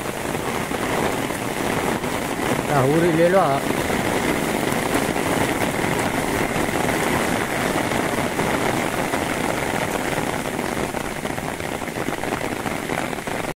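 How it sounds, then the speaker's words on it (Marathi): Heavy monsoon rain pours steadily over flooded fields in the Konkan countryside near Kumbhavade, Rajapur, as a constant loud hiss that runs the whole time, with a brief voice around the third second. "अरे सकाळीच बघा पाऊस आता जोरात चालू झालेलो हा"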